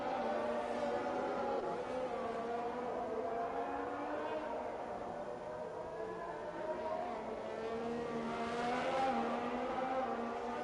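Race cars lapping the Spain circuit in a racing game, engines droning and shifting pitch together in a steady, layered whine as several cars run on track at once.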